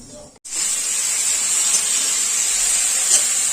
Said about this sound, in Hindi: दोबारा अब बस ये छौंक रहे हैं चने